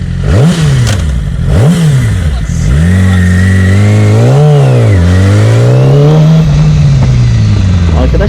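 A Yamaha R6 sport motorcycle revs hard while being ridden, its engine note climbing and dropping in repeated sweeps, loud and close throughout.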